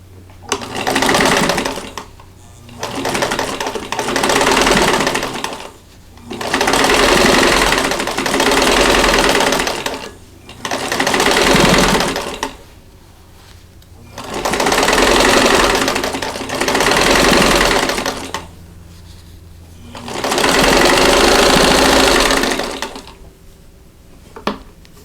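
A home sewing machine stitching quilt block rows together in steady bursts of fast mechanical whirring and needle clatter, each run lasting a few seconds with brief pauses between, loud and close with no talking.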